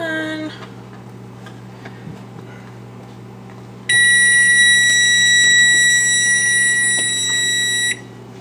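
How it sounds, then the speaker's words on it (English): A long, steady electronic beep from a kitchen appliance sounds for about four seconds while baby rice cereal cooks on the stove, with a low hum and faint clatter underneath before and after. "That was a really long beep."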